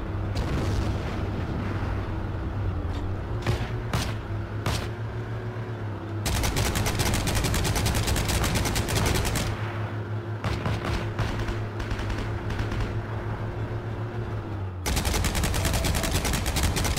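Gunfire crackles in Heroes & Generals during a Tiger 2 tank battle, loud rapid volleys in long bursts over a steady droning engine hum, with brief quieter gaps between barrages.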